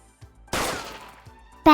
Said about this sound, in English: Bang! She's been hit. Hollow point bullet straight to the gut.